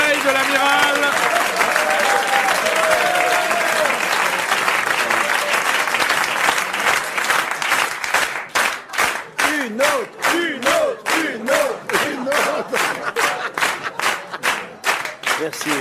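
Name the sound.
studio audience applause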